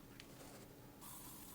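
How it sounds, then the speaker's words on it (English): A spray paint can lays a light coat on automaton head parts with a steady, close hiss that grows louder for the second half. "spray a light coat from each side."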